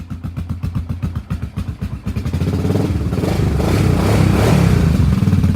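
A Kawasaki KFX700 ATV engine cranks in rapid rhythmic chugs for a couple of seconds, then catches and runs with a loud, steady, rising rumble.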